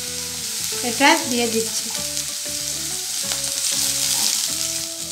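Chopped cauliflower fries in a pan for spring rolls, a loud close crackling sizzle throughout, under steady background music and a brief spoken line.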